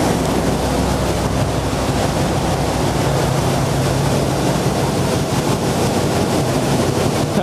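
A second-generation Chevrolet Camaro idles after a battery swap, its engine a dense, steady rumble heard close and loud throughout with no break.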